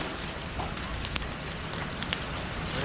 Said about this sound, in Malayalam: മഴ കേട്ടോ, സ്റ്റിൽ മഴയാണ്.